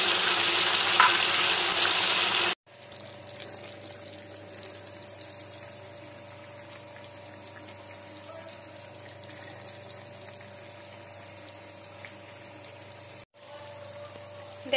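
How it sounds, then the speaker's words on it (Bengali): Mustard paste stirred into milky shukto vegetables in a pan: a brief burst of loud sizzling and stirring, then a sudden cut to a quiet, low hum with faint clinks. "ভালো সর্ষে বাটাটা এবার দিয়ে দিলাম, দিয়ে নাড়িয়ে নেবো।"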